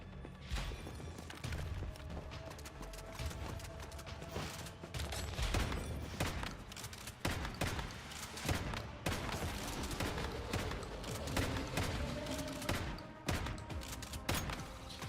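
Shotgun fire in the game Once Human, a rapid run of loud booming blasts repeating over a busy, constant background of game noise.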